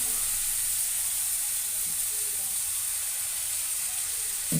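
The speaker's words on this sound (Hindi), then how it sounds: "मसाला हो गया है और हम सब्जी डाल देते हैं" Bottle gourd pieces fried in masala in a pan give a steady, bright, hissing sizzle, close and loud, with a small clatter near the end and no talk.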